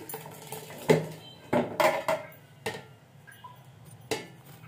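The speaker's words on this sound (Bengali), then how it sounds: "এই পাতিলে ঢেলে নিচ্ছি।" Blended tomatoes are poured into a cooking pot, with several sharp metallic clanks and clinks of the pot and utensils spaced irregularly, close and fairly loud, with no talking.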